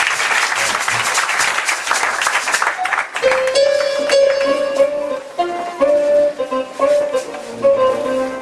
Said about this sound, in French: Acclamons pour le Seigneur Jésus.